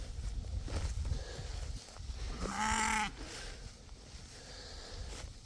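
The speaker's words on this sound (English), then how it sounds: "we got some sheep that are complaining about something." A single sheep in a pasture lets out one short, complaining bleat from some distance, standing out briefly against a steady outdoor background hiss.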